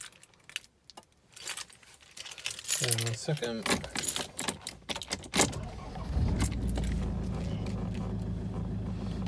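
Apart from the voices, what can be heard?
Land Rover Defender 90 engine being started with keys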